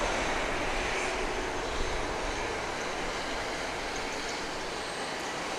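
Engine roar from a Challenger 300 business jet at Grand Cayman airport, a steady broadband whine and rumble held at constant loudness throughout, heard from a distance across the airfield.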